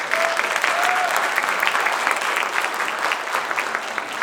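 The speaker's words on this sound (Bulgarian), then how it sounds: "Аплодисменти за него." Warm, steady applause rises from the audience at an awards ceremony, a dense crowd of clapping that stays even and fairly close throughout the short stretch.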